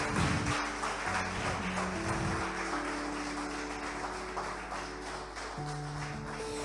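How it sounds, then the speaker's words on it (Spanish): Church congregation applauding, a dense, sustained clatter of many hands clapping that fades slightly over time, with a low hum beneath and no talk. "Sí, aplaudile."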